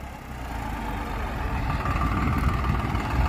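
Swaraj 735 tractor engine running with a 9-tine cultivator, throwing heavy black smoke, a steady low diesel rumble that builds slightly in loudness, close by and alone, with no voices.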